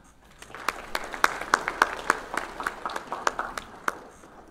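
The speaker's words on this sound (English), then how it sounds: "Everybody give a clap" A church congregation claps during a worship service, a small scattered group of sharp, separate hand claps at a moderate distance that stays sparse and uneven throughout.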